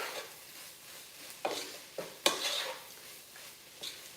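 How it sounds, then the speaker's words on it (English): A spoon stirs and scrapes through a tuna cutlet mixture with coriander powder and garam masala in a bowl, soft rubbing with a few sharper clinks against the dish, quiet and close. "Okay, mix it well."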